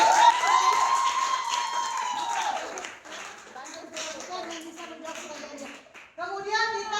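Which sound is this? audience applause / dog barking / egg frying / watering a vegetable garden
audience applause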